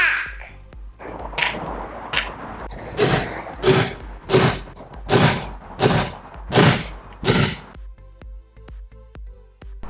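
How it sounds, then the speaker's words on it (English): A baseball bat strikes a replica Captain America shield about nine times in steady succession, each a loud, close, dull thud with a brief ring, followed by quiet. "Baseball bat attack!"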